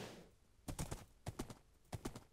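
Horse hooves in Minecraft strike in quick clustered beats, a galloping rhythm of three bursts, moderately close with no talking.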